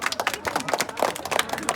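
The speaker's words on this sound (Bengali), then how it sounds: "আমি এই দুই টিমের খেলোয়াড়দের জন্য একটা বড় হাততালি চাই।" A crowd gives a brief round of applause for former football players at a local football ground, with dense, irregular claps close by.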